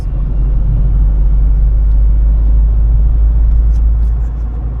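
Loud, steady low rumble of a car cruising along a highway past drought-blackened fields in Odesa region, constant road and engine drone from inside the vehicle with no talk.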